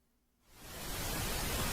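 After a quiet half-second, dense broadband hiss like static from a space sound recording swells in and holds steady and loud, like a CRT television tuned to an empty channel.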